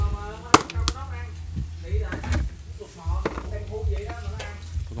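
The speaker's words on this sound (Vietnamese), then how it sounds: "cá mồi đổ vô" Chopped bait fish and water hyacinth are tipped into a bowl and stirred together as frog bait, giving irregular clinks, scrapes and wet knocks close by while someone talks over them.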